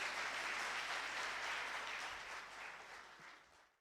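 Dense audience applause for a poet at an Urdu mushaira in Bahrain, a full, even roar of many hands clapping that gradually thins and fades out toward the end.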